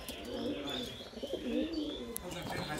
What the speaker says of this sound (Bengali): এটা একটা নর কবুতর ঘনবাজির